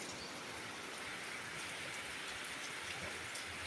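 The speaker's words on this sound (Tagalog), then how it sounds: "Morning ay kusog ulan." Heavy rain pours steadily in Southern Leyte, a dense, continuous hiss of drops drumming on surfaces with no letup and no voices.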